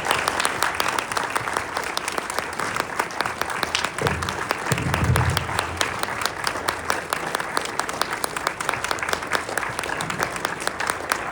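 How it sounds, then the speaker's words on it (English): A university lecture audience gives a speaker sustained applause, loud and dense clapping from many hands throughout, with a brief low murmur partway through. "Just one more time, give a round of applause for Dr. Finkelstein for coming all the way here."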